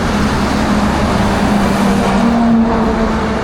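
A car drives along a foggy road on a cold night, a constant loud engine and road drone with a steady low hum, close and unbroken.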